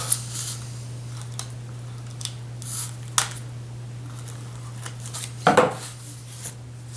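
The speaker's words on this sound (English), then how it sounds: "Don't want to rip this off, I want to cut it so I can reuse this cardboard" A blade slices through packing tape on a cardboard box in a few short, scratchy cuts, with one louder rip-like cut near the end over a quiet background hum.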